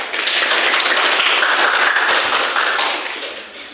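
A classroom of students claps hands together in a loud burst of dense, overlapping applause that holds steady for a few seconds and then tapers off.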